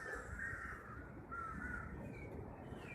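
Crows caw repeatedly at a distance, harsh calls recurring every second or so over a steady outdoor background.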